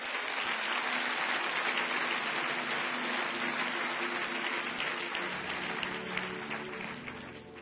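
A church congregation applauds steadily and loudly, a dense wash of clapping that holds for several seconds before easing slightly toward the end.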